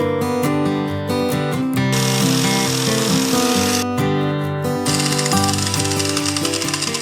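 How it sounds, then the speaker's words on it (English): An angle grinder with a wire wheel whines loudly while stripping old paint and rust from the fork clamp of a vintage Suzuki TS185 motorcycle. A steady tonal spin breaks into harsh, gritty scraping bursts each time the wheel bites the metal. "I'm just going to use my wire wheel on the angle grinder like I always do"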